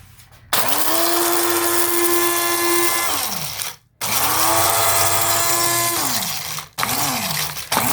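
Blender pulsing dried hot red peppers into flakes: three loud motor bursts, two long and one short, each starting with a rising whine, holding steady and winding down, with brief pauses between.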